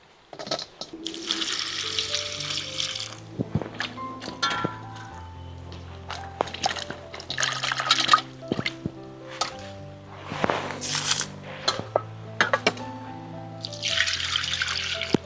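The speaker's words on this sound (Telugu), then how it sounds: "ముందుగా చింతపండు కడిగి నానబెట్టుకుందాం." Tamarind is rinsed and soaked in water for a village-style barramundi fish curry: intermittent splashing and trickling close by, with soft bowl knocks and a quiet melodic tune underneath.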